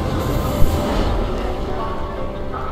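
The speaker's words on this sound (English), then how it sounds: "Yeah, I got an inbound train down on platform." Train pulling into a platform in the video game Hitman Absolution, a steady loud rumble of rolling wheels and carriages with a brief sharp clank near the start.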